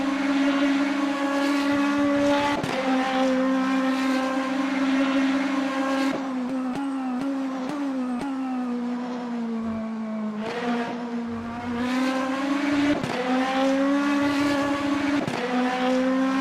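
A GT3 race car engine in the video game Le Mans Ultimate roars continuously, revving and shifting through gears with pitch sweeps rising and dropping, loud and close throughout.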